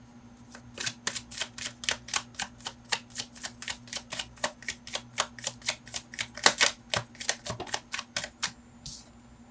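Tarot cards being shuffled and flicked from the deck, a steady run of crisp, rapid card snaps and riffles, close and fairly loud, with no talking.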